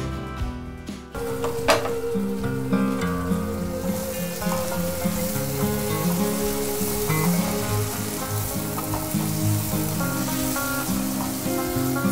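Dried prawns and onions fry in oil under a lid, a dense, even sizzle that holds steady throughout after a brief clink near the start, with music softly underneath.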